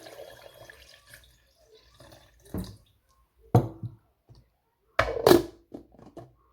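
Water poured over sugar, mixed fruit and orange in a container for a juice drink, coming as a few short, close splashing bursts separated by quiet gaps.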